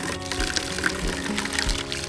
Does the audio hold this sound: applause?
no